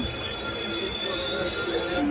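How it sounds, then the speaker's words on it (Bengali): A night express from Digha to Howrah pulls into Ramnagar station with a sustained, close metallic wheel squeal over a low rumble of rolling carriages, steady throughout. "ট্রেনটি ছুটে চলেছে আর ট্রেনটি রামনগর স্টেশনে পৌঁছে গেল"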